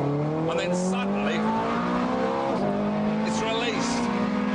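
A 510-horsepower car accelerating hard, its engine note climbing steadily through the gears with a shift break midway, loud and close throughout.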